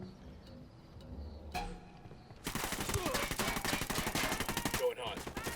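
Rapid automatic gunfire in the video game Ghost Recon Wildlands erupts after a quiet stretch and continues as a loud, dense burst of shots for about three seconds.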